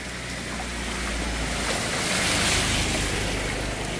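Heavy monsoon rain and floodwater on a road in Duler, Mapusa, Goa, heard as a dense, steady wash of rushing water and rain hiss, loud and unbroken with no voices.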